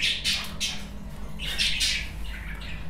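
Lutino budgerigars in a breeding room, with bursts of close chirps and squawks that overlap in quick clusters over a low room hum.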